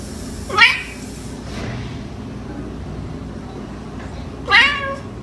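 A pet cat meows twice while being brushed with a damp toothbrush, two distinct, fairly loud cries a few seconds apart against a quiet indoor background.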